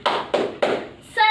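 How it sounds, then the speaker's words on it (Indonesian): Three loud, evenly spaced group claps in a rhythmic spirit-clap routine at a community session for mothers, each sharp and close with a short decay, followed by a brief burst of voices. "Coba kita bisa tepuk semangat, Bu."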